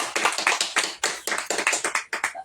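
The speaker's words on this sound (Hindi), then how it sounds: "ताली बजा सकते हैं" A church congregation claps in time during a service, a run of sharp, close, rhythmic hand claps at a brisk steady beat, fading out at the end.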